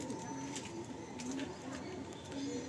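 Breeding pigeons in a newly opened loft coo repeatedly in soft, rhythmic calls close by, with several birds overlapping and faint background murmur and movement.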